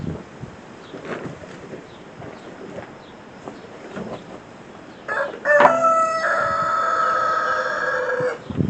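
Free-ranging farm chickens and roosters: a loud rooster crow rings out near the midpoint, followed by sustained clucking and cackling, over quiet outdoor farmyard background with faint knocks.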